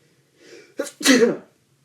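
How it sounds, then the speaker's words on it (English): A single loud sneeze up close, a short breathy intake followed by a sharp explosive burst, then silence. "oh gosh, I gotta sneeze"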